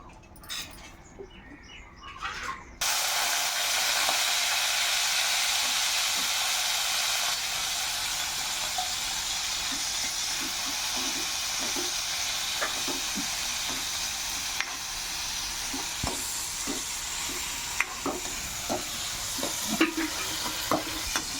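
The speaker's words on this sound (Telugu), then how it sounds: "నేను తర్వాత రొయ్యలు వేపి మళ్ళీ కలపాలి" Dried prawns frying in oil in a pan, a steady loud sizzle running throughout with scattered sharp crackles and stirring scrapes, after a short quieter start.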